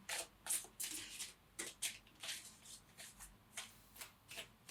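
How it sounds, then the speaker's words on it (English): A Goddess Guidance tarot deck is shuffled by hand in a quiet room, giving soft, repeated papery riffles and card flutters in an uneven rhythm. "I was shuffling the Goddess Guidance cards by Doreen Virtue"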